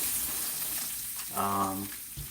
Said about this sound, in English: sear down the fat